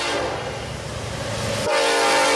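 A Norfolk Southern westbound V17 freight led by EMD SD70ACe NS 1066 in New York Central heritage paint passes a crossing at Yadkin Road in Chesapeake, Virginia, its horn blaring loud and steady over rumbling rail noise.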